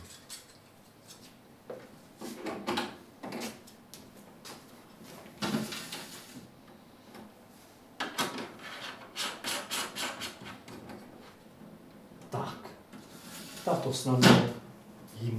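Parts of a collapsible terrarium are fitted together and screwed by hand, with intermittent rubbing, clicking and scraping of panels and fittings while a person talks over the work.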